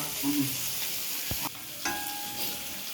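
Ponnara fish fries in a pan of oil. A soft, steady sizzle hisses throughout, with a couple of sharp clicks as the pieces are turned over. No one speaks.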